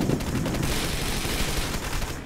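Heavy gunfire in Wanted: Dead, a dense, continuous fusillade of rapid shots crackling close and loud throughout with no pauses.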